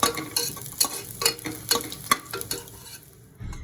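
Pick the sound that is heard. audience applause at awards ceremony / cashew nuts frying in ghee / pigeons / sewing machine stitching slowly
cashew nuts frying in ghee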